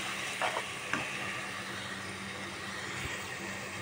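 Meat being stirred in hot oil in a pan gives a faint, steady frying hiss with a couple of soft scraping clicks early on, heard alone at low volume.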